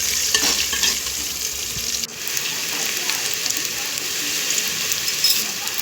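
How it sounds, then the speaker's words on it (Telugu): Onion pieces frying in a couple of spoons of oil, a loud, dense sizzle close by with stirring scrapes and clatter, a brief dip midway, and no talking. "దానిలో 2 స్పూన్స్ ఆయిల్ వేసి దాంట్లో ఉల్లిపాయ ముక్కలు వేసి కొద్దిగా వేగనివ్వాలి."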